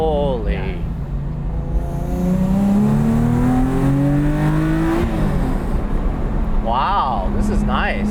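A Subaru GC8 fitted with a swapped 3.6-litre flat-six engine revs up in a rising pitch, then the note falls away as the throttle closes, heard loud and close from inside the car.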